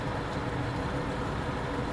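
A Scania 143 500 V8 truck engine holds a steady, deep, loud drone as torque builds against lightly applied brakes, with no speech over it.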